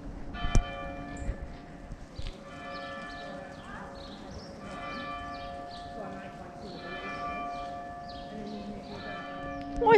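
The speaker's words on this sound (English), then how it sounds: "Why is he ringing that bell so much?" A large Gloucester Cathedral bell rings repeatedly with long sustained tones, heard at moderate distance in winter, along with faint clopping and distant crowd murmur.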